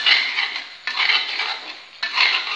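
Spatula stirring sugar into tempe orek with petai in a pan, three long scraping sweeps against the metal, loud and close, with no voices.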